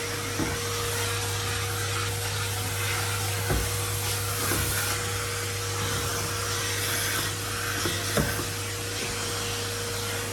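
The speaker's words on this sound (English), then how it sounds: "give a bit of a detailed vacuum into zone 2, onto these things that just get behind the crumbs" A vacuum cleaner runs steadily around a kitchen floor, a loud constant whine and hum with occasional knocks as the nozzle bumps into things, no speech.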